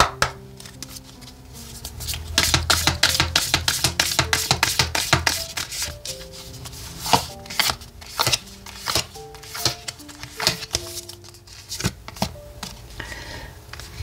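Oracle cards shuffled by hand for a tarot reading, a dense run of close, papery riffles and flicks that thin into scattered slaps and taps, heard alone over soft background music.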